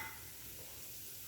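Mustard seeds and chana dal sizzle and crackle steadily in hot oil for a tempering, a close, constant frying hiss with no talk.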